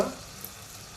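Ginger, garlic, coriander and curry leaf paste hits hot oil for a Maharashtrian bhogichi bhaji, giving a brief, steady, close sizzling hiss that starts with a sharper burst and then settles.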